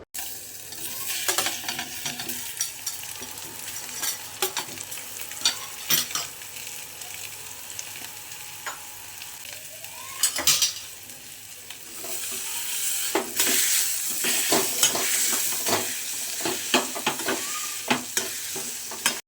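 Spices and curry leaves tempered in hot oil in a pan for vada pav filling, a continuous crackling sizzle with repeated stirring scrapes and clinks of a spoon against the pan.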